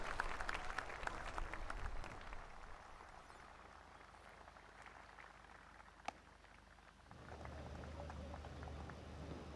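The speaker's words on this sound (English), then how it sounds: "a big round of applause for the wonderful performance by the young air warriors of the Air Warrior Drill Team" Dense, steady applause from a large crowd at an Indian Air Force Day anniversary ceremony, following the Air Warrior Drill Team's performance, fills most of the clip before easing into a lower, rumbling crowd murmur near the end.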